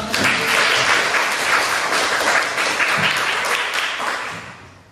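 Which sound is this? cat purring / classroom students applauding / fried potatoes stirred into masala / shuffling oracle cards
classroom students applauding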